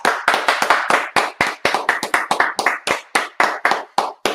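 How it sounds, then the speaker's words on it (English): A group at the close of a class claps together in a steady burst of sharp, rapid applause, loud and close, lasting several seconds with no talking. "We'll clap it up."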